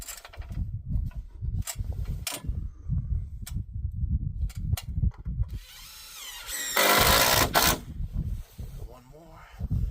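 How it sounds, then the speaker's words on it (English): A power drill drives screws into barn board while building a pole barn for cows, with short whirring bursts late in the stretch mixed among steady talking throughout. "just popping the screw in at the top to get it all tied down"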